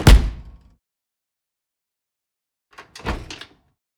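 Explosion built from kitchen objects such as an oven door slammed, a mortar and pestle struck together and a cutlery drawer shut: a heavy thud with a decaying rumble, a long silence, then a second burst of clattering impacts.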